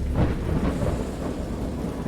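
Deep rolling thunder rumbles through a storm scene in the video game Dagon, a loud low continuous roar that swells early then eases, with a faint hiss of rain beneath and no speech.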